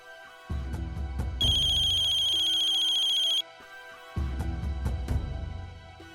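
A ringing phone plays a loud, tinkling melodic tune, with a steady held chime in the middle and musical backing before and after.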